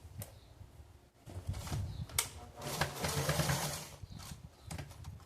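A sewing machine stitches straps onto the fabric of a children's top, running in short, quiet bursts with brief pauses in between.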